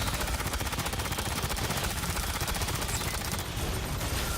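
Automated turrets in Aliens: Fireteam Elite pour out continuous rapid machine-gun fire, loud and dense from start to finish with no pauses.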